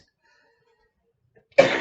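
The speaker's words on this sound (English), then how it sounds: "That's a smoker's cough, unfortunately." A smoker's cough bursts out suddenly after near silence, one rough, close, loud cough with a throaty rasp that carries on to the end.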